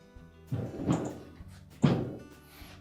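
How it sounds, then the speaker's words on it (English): Refrigerator freezer door being set onto its center hinge, giving two dull, low thunks about a second apart, with light handling rustle between them and no talk. "So now we'll take that freezer door and we're going to set it on place on the center hinge."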